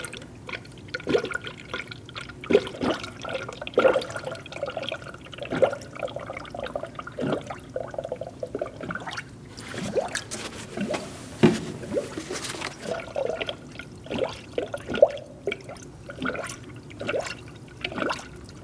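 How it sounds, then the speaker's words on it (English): Coolant poured through a funnel into the cooling system of a 2002-2006 Toyota Camry 2.4L four-cylinder, giving a steady trickling gurgle with irregular glugs and drips, close and fairly quiet throughout. "Put your funnel in, and now we're going to fill up the system with coolant."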